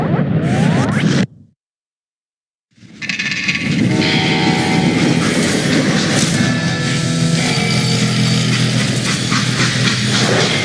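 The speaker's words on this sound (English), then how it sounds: "They hopped a freight train" A freight train in the Western shooter game Call of Juarez: Gunslinger rolls along the rails with a loud, continuous rumbling hiss and rattle, briefly dropping to silence before resuming at full strength.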